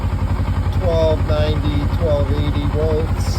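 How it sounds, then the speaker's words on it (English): A 2007 Kawasaki Versys motorcycle engine idles warm, a steady loud rapid pulsing thrum held close, while someone talks over it. "Now that it's warmed up, it's idling at about"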